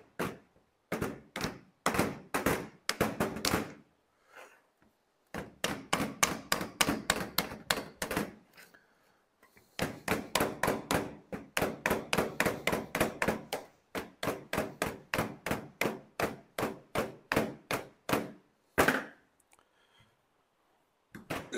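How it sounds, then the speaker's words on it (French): Small rubber mallet tapping a stuck part off a Mitsubishi Colt 4G15T engine, rapid bursts of dull knocks in fast runs with short pauses, close and clear. "Il prend un petit marteau en caoutchouc parce que c'est bien collé."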